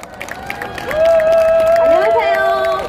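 Concert audience applauding and cheering as a trot singer is welcomed onto the stage, a crowd swell that rises after a second and holds steady, with a sustained tone over the clapping.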